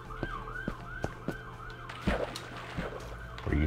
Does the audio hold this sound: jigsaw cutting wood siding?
no